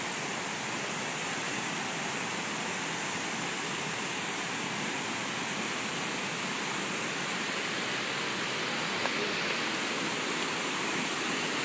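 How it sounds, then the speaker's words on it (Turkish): Düden Waterfall pours in a steady, dense rush of falling water, a constant broadband roar with no breaks, heard from nearby. "İşte Düden Şelalesi karşımızda."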